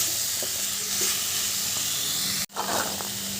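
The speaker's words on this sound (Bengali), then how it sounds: "এরপর ওলকপিগুলো দিয়ে ভালো করে কষিয়ে নেব" Kohlrabi stir-fried with spices in a pan gives a steady close sizzle and hiss, with a few faint scrapes and one abrupt brief cut in the sound midway.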